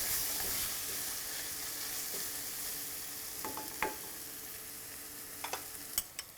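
Golden-brown onions sizzle steadily in a pan of oil for a Kerala fish curry, with occasional scrapes and clinks of a spoon stirring them near the end; no one speaks.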